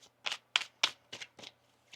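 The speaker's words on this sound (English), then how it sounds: "One more shuffle." Tarot cards being shuffled by hand in a quiet room, a run of six or seven crisp riffling bursts in uneven rhythm, close and fairly loud with no talking.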